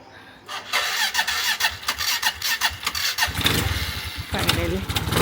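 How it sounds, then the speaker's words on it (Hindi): A motorcycle on a ride in Goa is kicked or cranked repeatedly but fails to catch, giving a loud, close, stuttering series of starter bursts that build into rough engine sputters at the end, with voices talking over them. "जो गाड़ी स्टार्ट हो नहीं रही है अभी।"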